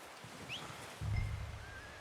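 A horse in the Red Dead Redemption II video game, heard as a short, fairly faint whinny with a heavier low rumble of movement in the second half.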